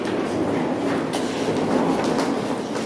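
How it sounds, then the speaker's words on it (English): An eastbound Toronto subway train at Jane station, a steady loud rumble of wheels and cars with faint rhythmic clatter, filling the platform without any talk. "This is probably the train I missed."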